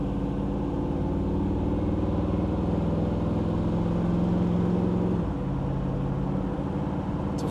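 Engine of a 1955 Chevrolet Bel Air with an LS swap and 4L80E automatic, a steady loud drone while driving, then a clear drop in pitch near the end as the transmission shifts gears.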